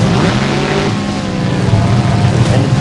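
Copperhead monster truck's engine revs loud and close on its time-attack run at a Jacksonville destruction tournament, a sustained throaty roar with shifting pitch and steady intensity throughout.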